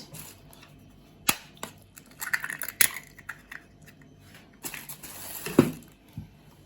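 Two eggs are cracked into a bowl, giving a few sharp, close taps and shell cracks followed by a soft wet plop, with no one talking.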